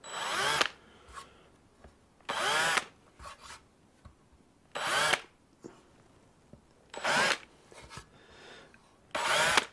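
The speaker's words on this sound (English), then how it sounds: "I'm just going to take a small countersink and just put the very slightest countersink on every single hole on the top of this" A small countersink bit drills into screw holes on the top of a Telecaster guitar body in five short, loud bursts, each lasting about half a second, separated by quieter handling noises and pauses.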